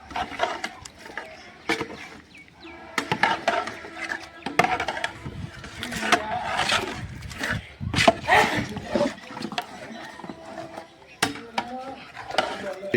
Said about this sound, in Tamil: இப்போ நல்லா மிக்ஸ் பண்ணி வேக விடுவோம்